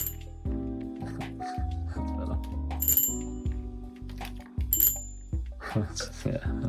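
An automatic bicycle bell is struck over and over by a spinning propeller, giving a quick, steady run of close metallic rings with a mechanical whir beneath, while a voice talks intermittently.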